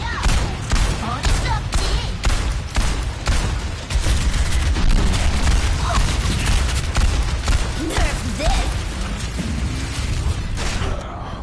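Overwatch 2 combat with dense, rapid gunfire bursts and booming explosions, loud and continuous throughout with layered mechanical effects and no clear pauses.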